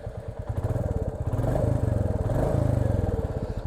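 Royal Enfield Bullet motorcycle engine cranking and catching into a steady, loud thumping idle, close by, with a rapid chugging pulse throughout and no voices.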